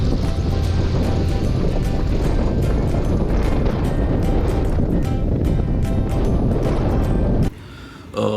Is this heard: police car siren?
no